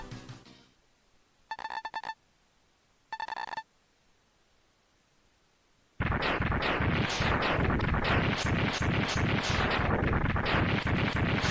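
Video game sounds from Mega Man X3: two short electronic beeps, then a sudden burst of rapid, loud explosive gunfire as an enemy is shot and explodes, continuing densely for several seconds.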